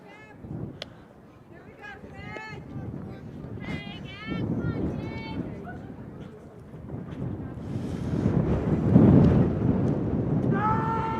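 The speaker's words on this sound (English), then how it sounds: "We have the occasional wind gust of 40 miles an hour." Strong wind gusts of up to 40 mph buffet the microphone at an outdoor high school softball game, a low rumbling roar that swells and fades beneath voices talking.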